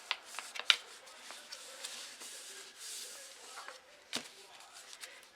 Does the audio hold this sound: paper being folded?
yes